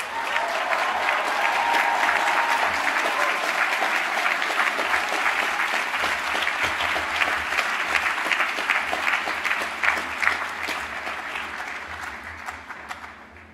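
Sustained crowd applause for Applied Sciences graduates at a 2021 university conferring ceremony, a dense steady roar of many hands filling the whole stretch, tapering slightly at the end.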